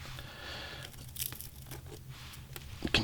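Crunchy dead leaves are torn off plants by hand, giving close, irregular crackling rips and crinkles over a quiet background.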